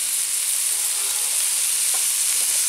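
Jackfruit sautés in a hot pan with a bright, even sizzle that stays steady throughout, plus a faint scrape or two of stirring, close and with no speech.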